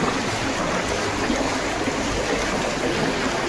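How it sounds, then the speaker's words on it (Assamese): Floodwater near a bridge in Teok, Jorhat, makes a constant, rushing wash of flowing water and waves that stays loud and even, with no one speaking. "আমি ঢৌ দেখাম এতিয়া"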